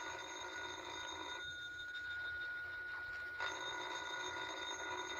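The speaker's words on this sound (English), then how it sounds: "ain't you going to answer the phone?" A telephone rings steadily throughout a vintage radio drama, a continuous electric bell tone with a brief dip midway and no voices over it.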